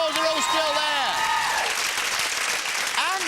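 A studio audience at a 1997 game show breaks into sustained applause, dense steady clapping at full volume, while a presenter's voice carries over the top.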